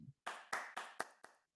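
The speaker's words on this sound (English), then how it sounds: "who's clapping" Hand clapping in a virtual Spatial event space: five sharp, evenly spaced claps in quick succession, close and clear with silence between them.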